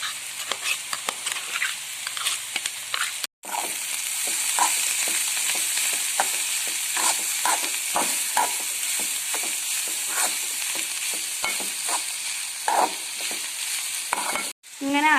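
A ground coconut paste is stirred into frying amara beans for thoran, giving a steady sizzle with repeated scraping strokes of a spoon against the pan, with no talking.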